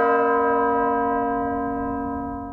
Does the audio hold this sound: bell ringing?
yes